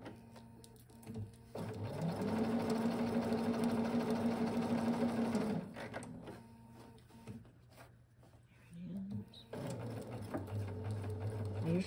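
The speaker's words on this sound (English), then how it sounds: "So I'm going to put the foot down, hold the thread right here, make a stitch, and we're going to keep on going on the other side." A sewing machine stitches a bust dart in two bursts, a sustained run of rapid mechanical whirring and needle clatter, then a pause with light handling noises before the stitching resumes, close and fairly quiet with no talking.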